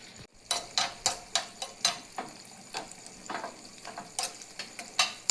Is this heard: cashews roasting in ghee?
yes